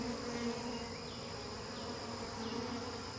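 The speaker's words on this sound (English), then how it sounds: "There's a bee on me." Honeybees buzzing steadily around a hive being installed outdoors, a dense continuous drone close by with individual bees whining past now and then, no talking.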